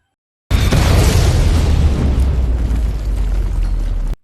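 A loud, sustained bomb blast with a heavy low rumble that starts abruptly and roars for about four seconds before cutting off.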